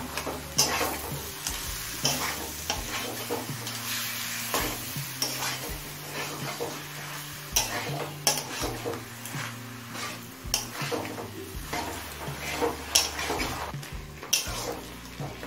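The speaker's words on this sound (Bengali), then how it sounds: "শাকটা সবকিছুর সাথে ভালোভাবে মিশিয়ে নিয়েছি।" Taro leaves being stirred into a sizzling pan of mixed vegetables with eggplant for a Bengali labra, steady scraping stirs over a constant frying hiss, close and moderately loud, with no talking.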